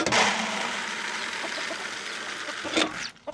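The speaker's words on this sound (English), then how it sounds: "Patience, patience, little chickens." Chickens and small chicks clucking close by, a busy continuous flock chatter with a brief louder burst near the end before it thins out.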